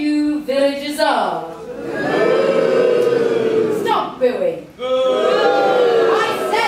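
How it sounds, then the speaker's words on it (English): Pantomime audience in a holiday-hotel theatre booing a villain together, a loud sustained crowd roar swelling in the middle, with a single performer's raised voice heard before and after it. "I said stop booing!"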